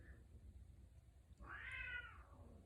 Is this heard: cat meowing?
yes